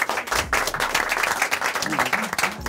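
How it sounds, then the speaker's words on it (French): Studio audience applauding and clapping after a quiz round on a French entertainment show, a dense steady burst of hand claps with cheering voices mixed in, loud and sustained throughout. "On peut les applaudir."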